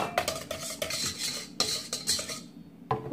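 A utensil stirs cocoa powder into red velvet cake batter in a bowl, giving repeated scraping and clinking strokes against the sides, close and fairly quiet, with brief pauses between strokes.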